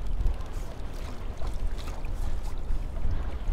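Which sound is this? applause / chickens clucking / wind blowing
wind blowing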